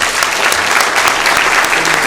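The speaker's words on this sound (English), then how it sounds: "Give a round of applause." Loud, dense round of applause in a city council chamber, a sustained crackle of many hands clapping at once, steady from start to finish with no speech over it.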